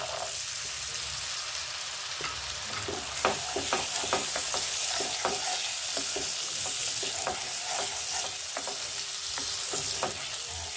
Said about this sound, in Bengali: এটা আমি এবার মটরশুঁটিটা দিয়ে দিচ্ছি।